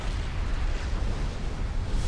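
Unit structure detonation in the strategy game Supreme Commander 2, a loud rumbling explosive roar with dense crackling bursts sustained throughout, heavy and close.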